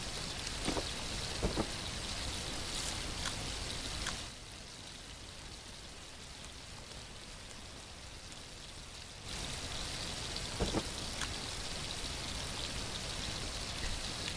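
Steady rain in the survival game The Last Plague: Blight, a continuous dense patter of drops with a few sharper splashes. It softens briefly in the middle, then returns at full strength.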